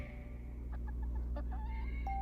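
A few short, scattered clucks from a rooster rise over a steady low hum and rumble.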